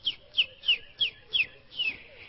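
Someone whistles a bird-song imitation for a children's story: six short, bright chirps in a quick, slightly uneven series, close and fairly clear, with no talk.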